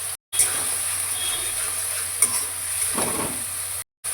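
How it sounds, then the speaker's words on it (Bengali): Onion paste fries in a pan for a fish curry, giving a continuous close sizzle with short stirring scrapes and small clinks, briefly cutting out at the start and end. "এবার এই পেঁয়াজ পেস্টটাকে একটু ভাজা ভাজা করে নেব।"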